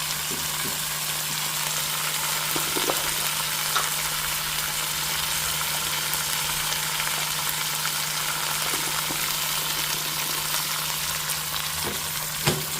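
Mint leaves fry in a hot pan for a mudda pappu dish, giving a steady, close crackling sizzle with a low hum beneath and occasional sharper pops, continuous throughout without speech.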